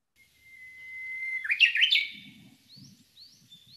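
A Japanese bush warbler sings its hoo-hokekyo song: a long, clear rising whistle breaks into a quick warbled flourish, followed by a few faint, distant chirps.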